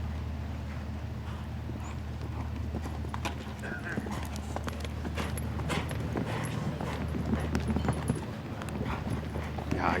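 A show jumper's horse clip-clops across a show jumping arena at the FEI Asian Championships, steady hoofbeats under crowd ambience, with an occasional whinny and faint distant noise.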